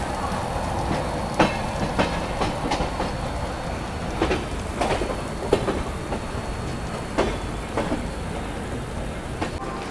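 Kalka Shatabdi Express running in heavy rain, a steady loud rumble with clickety-clack of wheels on rail joints and intermittent clanks, heard from inside the train.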